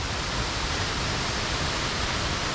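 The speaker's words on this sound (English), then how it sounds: "You can actually go below and you can actually go under this waterfall" Waterfall at Cavern Falls in the Gold Coast hinterland, a steady, dense roar of falling water filling the whole clip with no breaks.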